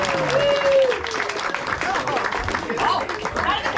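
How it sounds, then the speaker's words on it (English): Polite applause from an audience at a live reptile show, a moderate round of clapping, with a voice talking over it. "so let's just keep some polite applause."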